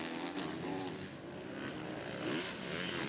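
Orange KTM racing motorcycle closing in on another bike during an S1GP supermoto race at Castelletto di Branduzzo, its engine a loud, continuous droning roar alongside a second machine, with the pitch rising toward the end.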